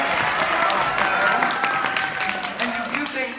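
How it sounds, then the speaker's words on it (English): An audience at a comedy show claps and cheers in a lively burst of applause that gradually thins out, with voices and a little speech mixed in under the clapping. "please applaud now."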